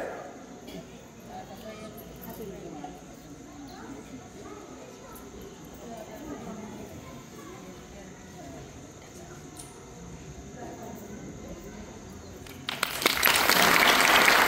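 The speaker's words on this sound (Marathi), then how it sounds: "सर्वांनी टाळ्यांचा गजर स्वागत करायचे" Talk at a village gathering in Vasole, marking a display of replicas of twelve UNESCO-listed forts, gives way near the end to a sudden loud burst of crowd applause that fills the final seconds.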